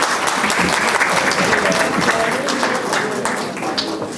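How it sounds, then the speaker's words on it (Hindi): An audience gives loud, steady applause at a Hindi literary gathering, the dense clapping fading slightly near the end, with some voices beneath it. "जोरदार तालियां हैं।"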